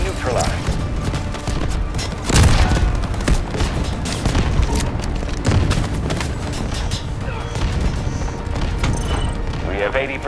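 Artillery strike explosions in the military shooter Delta Force Hawk Ops, a dense barrage of booms and gunfire-like bursts rolling on continuously, with heavier impacts near 2.5 and 5.5 seconds, under game radio voice lines.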